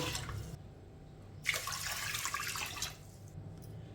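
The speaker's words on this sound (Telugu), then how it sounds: "ఇప్పుడు ఇందులో నీళ్లు వేసేసుకుందాము" Water is poured over washed brown rice in a vessel for about a second and a half, a steady splashing rush that starts abruptly and stops, with quiet background before and after.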